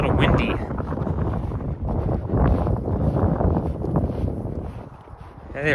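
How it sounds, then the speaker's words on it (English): Gusty wind buffets the microphone on an outdoor nature hike, a loud, steady roaring rush that swells and dips without pause throughout. "Whoa, it's getting a little windy."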